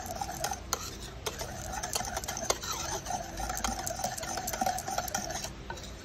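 Galapong rice-flour mixture for inutak dessert being stirred in a pot, a close, steady run of scraping and clinking utensil strokes against the metal, with no talk.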